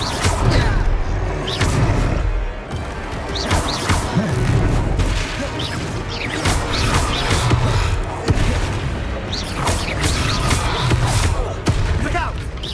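Confringo blast spells in Hogwarts Legacy explode one after another in a magic duel, loud booming bursts and impact crashes every second or so, with scattered voices in the fight.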